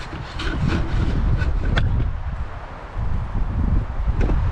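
Gusty wind buffets the microphone outdoors on a disc golf course, a loud continuous rumbling roar with rising and falling gusts and no talking.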